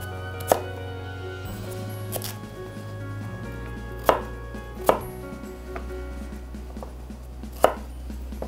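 A knife cutting sweet potato on a cutting board, several sharp separate thuds spaced unevenly over a few seconds, close and distinct above a quiet steady hum, with no talking.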